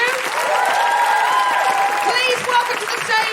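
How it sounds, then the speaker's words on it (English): Audience at a live comedy show at the Edinburgh Fringe bursts into loud, steady applause with cheering, the clapping continuing throughout while a voice speaks over it. "can I have a huge round of applause for Sikisa?"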